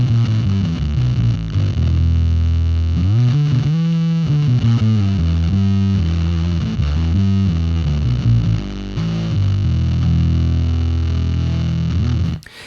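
An electric guitar played through a Gamechanger Audio Plasma Pedal high-voltage distortion gives a loud, buzzing, crackly fuzz on sustained notes and shifting chords, continuous for over twelve seconds before cutting off.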